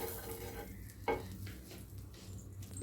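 Pav bhaji with Kashmiri chili and pav bhaji masala stirred in a pan, with a low steady sizzle, scraping strokes and one sharper knock of the spatula, quiet and close with no speech.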